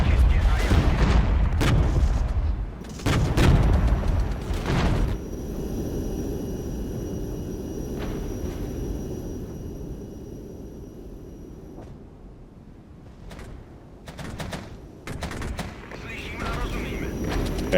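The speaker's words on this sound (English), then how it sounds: "I'll bring in some napalm for these forces" A napalm strike in the Regiments war game starts with heavy, overlapping explosions booming loudly for the first few seconds. A lower rolling rumble follows, broken by scattered sharper cracks and a swelling roar near the end.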